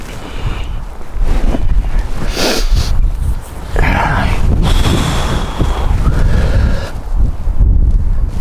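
Strong gusty wind at a wild camp buffets the microphone in loud, roaring bursts that rise and fall for several seconds.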